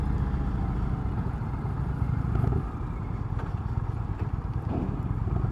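An Indian Chieftain motorcycle engine runs steadily nearby at idle, a low, continuous rumbling throb with slight pulsing and no talk over it.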